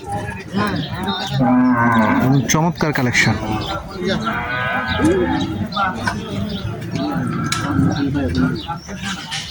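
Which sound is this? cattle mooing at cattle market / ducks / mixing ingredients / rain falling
cattle mooing at cattle market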